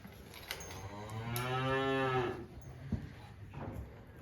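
A Hereford cow gives a single long, loud moo at moderate distance, rising and holding before trailing off, with faint farm ambience and small knocks around it.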